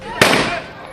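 One sharp gunshot cracks out loud and sudden in broad daylight during a quarrel over cutting green trees, then fades into a rough decaying tail with voices faintly underneath.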